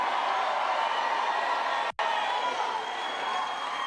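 Crowd noise at a Trump town hall in Pittsburgh, a steady wash of cheering and chatter from a large audience that cuts out for a split second midway.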